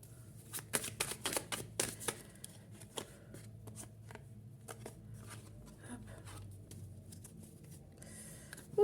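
Tarot cards are shuffled close up before three are drawn. A quick run of crisp riffling and flicking comes first, then the sound settles into softer, scattered card rustles. No one speaks.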